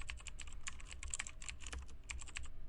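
Rapid, steady typing on a computer keyboard, with many close, crisp keystrokes in an uneven rhythm and no voices.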